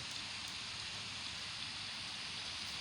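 Steady rain falls in the video game Los Angeles Crime Online, a soft, even hiss of drops that carries on without pause and stays faint and close.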